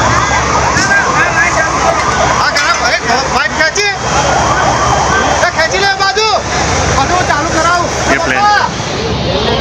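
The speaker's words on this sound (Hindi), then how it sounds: "सायरन बज रहे थे" Emergency vehicle sirens wail and warble loudly and continuously amid a rescue and relief scene, several overlapping sweeping tones over a noisy background with people talking.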